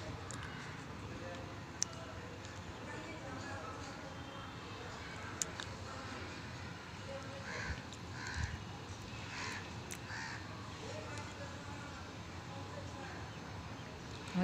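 Crows cawing intermittently at a rooftop water dish on a terrace, moderately near, with a person talking over much of it against steady outdoor background noise.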